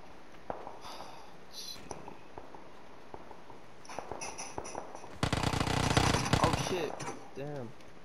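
Gunfire in the battle royale video game PUBG comes as scattered sharp cracks, followed by a dense burst of loud rapid shots near the end, under a player's voice chat.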